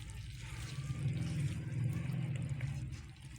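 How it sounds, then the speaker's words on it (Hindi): Leftover yogurt liquid from tandoori chicken bubbles and cooks off in a pan over high flame, a continuous low simmering gurgle with a steady rumble and no talking. "अब इसका जो पानी बच गया है दही का, उसको हाई फ्लेम पे ड्राई कर लेंगे।"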